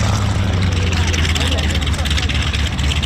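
An aircraft in Italian Air Force markings departing at an airshow, a loud continuous engine roar with a deep rumble that holds steady throughout.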